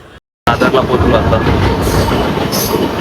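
A Mumbai local train headed for Dadar runs with a loud, steady rumble and rattle of wheels and carriages, broken only by a brief dropout at the start. Someone speaks briefly over the noise.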